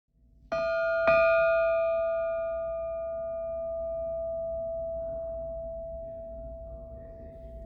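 A single ship's bell, from the USS Tullahoma, is struck twice in quick succession, then its clear metallic tone rings on and slowly fades over several seconds.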